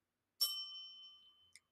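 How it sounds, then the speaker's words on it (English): A single clear bell ding signals a page turn in a children's audiobook, a bright ringing tone that decays over about a second, followed by a tiny second tap, in otherwise quiet surroundings. "make sure you turn the page when you hear the"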